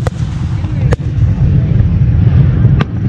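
Fourth of July fireworks at a show at Oak Run, sharp distant booms bursting over a loud, continuous rumble of crowd and background noise, two clear reports spaced a couple of seconds apart.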